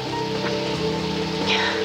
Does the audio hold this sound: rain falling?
yes